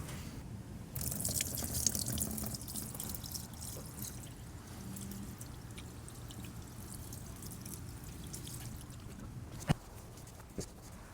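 Automatic transmission fluid from a first-generation Honda Ridgeline draining into a drain pan, a steady quiet trickle and patter of liquid running continuously with a few faint metallic clicks.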